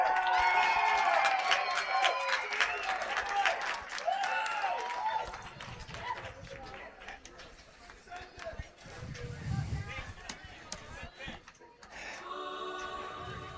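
Crowd noise and cheering at a Eau Claire Cavaliers vs Beef River Bullfrogs baseball game after a stand-up triple, a broad roar with scattered claps that swells early then settles into a steady murmur, with voices mixed in.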